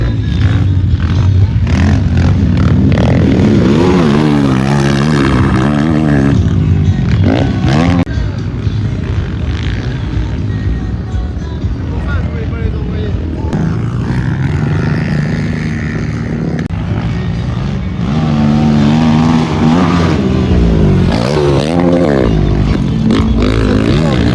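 Quad bikes ride a dirt motocross track at an African cross event, their engines roaring loud and close throughout with repeated revving surges and rising and falling pitch.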